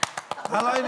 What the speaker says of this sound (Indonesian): Tepuk paha.